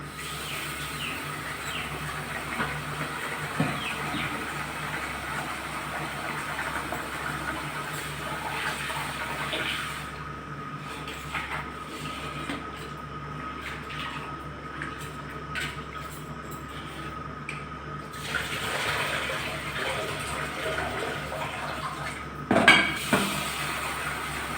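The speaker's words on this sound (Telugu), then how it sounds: "ఈలోపు రైస్ కడిగి పెడతా" Rice being rinsed with water in a pot in a home kitchen, a continuous low swishing and splashing with occasional clinks of the pot, fairly faint throughout.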